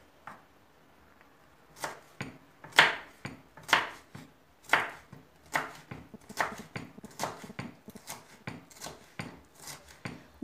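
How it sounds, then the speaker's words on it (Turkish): A knife finely chopping carrot and cucumber on a cutting board for Cunda-style cacık, a series of close, crisp irregular cuts after a brief quiet start. "Havucu ve salatalığı da doğrayacağım bu şekilde."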